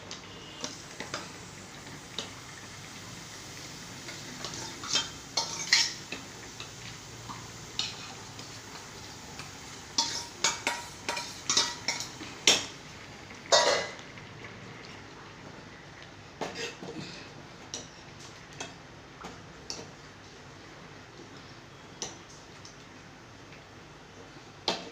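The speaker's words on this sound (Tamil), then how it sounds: "கரண்டிகிட்டே நல்லா மசிச்சு விட்டுக்கலாம்" Ladle scraping and tapping against a pot while mashing cooked tomato pachadi with coconut in a home kitchen, a run of sharp clinks and knocks that are irregular and close, loudest in the middle, over a quiet background.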